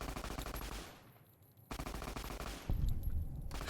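Rapid automatic gunfire from Fallout New Vegas rattles in fast repeated bursts with a short pause between strings of shots, fairly loud and steady with no talking over it.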